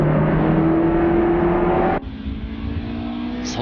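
A Group A Honda Civic race car engine at Tsukuba roars loud and steady at high revs, then the note drops abruptly and settles into a lower, rougher drone.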